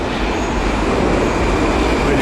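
A metro train in a Soviet-style station of the Tashkent metro gives a loud, steady, broadband roar of wheels and motors that fills the underground hall throughout, with no clear pauses.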